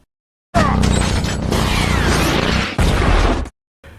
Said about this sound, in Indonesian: tiba-tiba datanglah Armando menggunakan helikopter kemudian menembak Mike dan Marcus dengan basoka